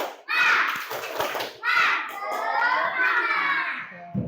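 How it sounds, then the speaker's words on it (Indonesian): Schoolchildren in an Indonesian classroom perform a spirit clap chant, their voices rising loud and close in two rhythmic bursts mixed with hand claps, then trailing off. "Sekarang tepuk semangat."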